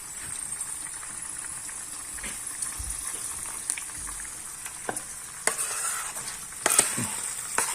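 Rabbit tongues fry in a pan, giving a continuous close sizzle with scattered pops and a few clattering stirs that grow louder toward the end.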